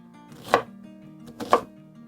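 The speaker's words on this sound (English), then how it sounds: "cut us up an onion, and we're just going to coarse chop it" Two sharp knife chops on a cutting board about a second apart, coarse-chopping an onion, close and crisp, with a faint steady hum underneath.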